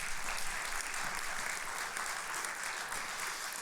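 A school band concert audience at Brush High School claps for the administration and board in a short, fairly quiet burst of steady applause.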